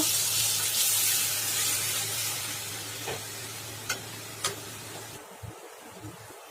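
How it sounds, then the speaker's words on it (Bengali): Water poured into a pan of spices fried until the oil separates, for a rohu fish curry, gives a steady loud hiss that cuts off near the end, leaving faint clinks and stirring. "এবার আমি জল দিয়ে দেবো।"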